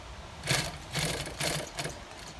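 A sewing machine stitches a seat seam for a 2020 Chevy Silverado seat in three or four short whirring runs, with brief pauses between them, fairly close and moderately quiet.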